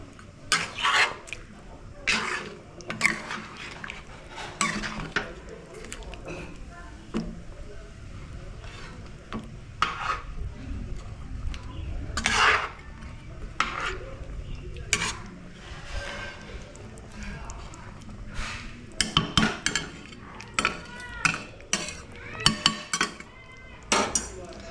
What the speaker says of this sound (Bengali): এবারে এই সমস্ত উপকরণগুলো দিয়ে ভালো করে মিশিয়ে নেব।